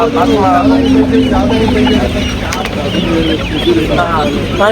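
Mysore native chickens at a livestock market cluck and cackle in short repeated bursts, close and loud, while people talk over them throughout.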